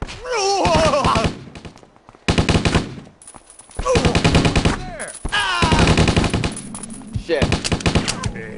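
Rapid machine-gun bursts in the video game Stubbs the Zombie, loud and near, coming in several long volleys separated by short gaps, with voices shouting between and over the shots.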